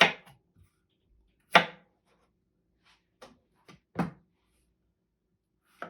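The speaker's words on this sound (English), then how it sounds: "I like to cut them lengthwise" A very sharp knife slices lengthwise through zucchini on a board, giving a few crisp, separate cuts spread apart with quiet gaps between them, close and moderately loud.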